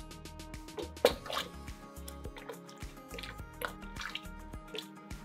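Liquid for a mango ginger bug soda boils in a pot, giving faint, irregular bubbling pops and soft drips over a low background hum.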